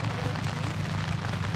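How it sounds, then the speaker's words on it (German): Heavy rain pours steadily at an outdoor music festival, a dense, continuous hiss that fills the short stretch without a break. "Es schüttet, es regnet und dies nicht zu wenig."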